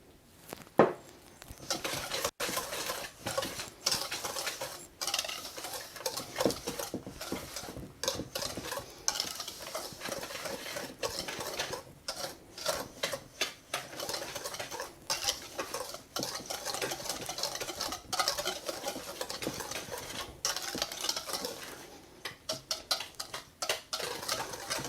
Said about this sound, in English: I'm going to mix 2 cups of regular sugar and a 1/2 cup of cocoa powder.